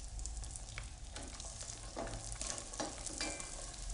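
Scallops and chorizo sizzle in a hot pan with a steady, close, crackling fry and faint stirring scrapes, continuous throughout without any talking.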